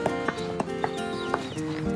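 A horse ridden by a child during a riding lesson walks with steady clip-clopping hooves, about four evenly spaced, clear footfalls over a constant background hum.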